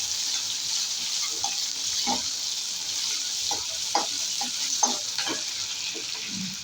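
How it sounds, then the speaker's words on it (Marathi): Onion and tomato frying in oil for a Maharashtrian bopla rasam dish: a steady, close hiss of sizzling runs throughout, punctuated by repeated short scraping knocks of a spoon stirring the pan. "टमॅटो कांदा पण घालतो. थोडंसं भाजून घेतो तर कांद्याची कच्चा स्मेल जाऊ दे तेलात."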